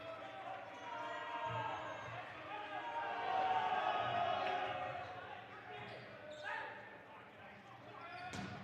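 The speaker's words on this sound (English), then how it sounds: "Crowd is fired up." A crowd at a men's college volleyball match between Benedictine and North Central roars and cheers steadily, swelling in the middle, with a commentator talking over it and a ball thump near the end.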